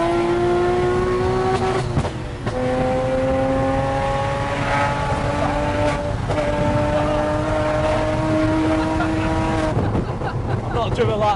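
A widebody Rocket Bunny Porsche Cayman accelerating hard, its engine note climbing through the gears in loud, close, sustained rising sweeps with brief dips at the shifts, under some talk.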